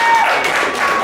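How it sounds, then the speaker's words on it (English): Theater audience applause before a music show, a brief loud burst of crowd clapping with a faint tone and voices blended in, lasting about a second. "Give Howard a big round of applause."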